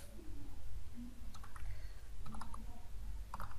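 Soft clicks of typing on a computer keyboard, short irregular bursts of keystrokes at moderate distance over a steady low hum, with faint bird cooing in the background.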